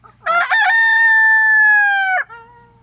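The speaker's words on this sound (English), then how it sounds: "This is the brown leghorn rooster." A brown leghorn rooster crows once, loud and close, a long sustained cock-a-doodle-doo lasting nearly two seconds, with faint clucking just before and after.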